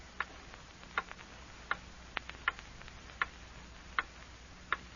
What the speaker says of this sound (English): Hear that clock?